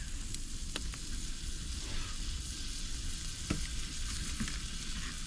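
A steak laid into a hot cast iron pan outdoors at a desert campsite sizzles steadily, a dense continuous hiss with a few small pops and clicks, close and fairly loud, no talking.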